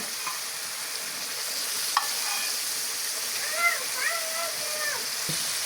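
Fresh local river fish go into a pan of spiced masala fried with turmeric, coriander, chili and cumin. A steady, close sizzling hiss fills the clip, with a couple of soft clunks and faint voice-like tones in the background.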